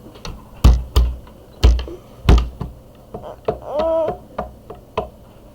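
Sharp, uneven clicks and taps of a computer keyboard being typed on, close by, with a few louder key strikes and a brief tonal whine near the end.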